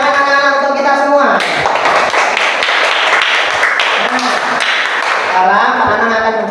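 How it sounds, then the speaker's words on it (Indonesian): Schoolchildren in a classroom clap their hands together, a lively patter of many small hands that starts after a sung or chanted phrase and ends as voices return. "Tepuk tangan anak-anak untuk kita semua."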